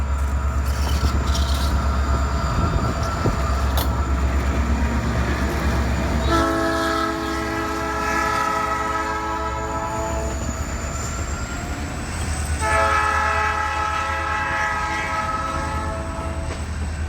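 An SD40-2 diesel locomotive on the South Kansas and Oklahoma railroad rumbles past steadily in Corona, Kansas, sounding two long blasts of its multi-tone horn, with wheels clattering on the rails throughout.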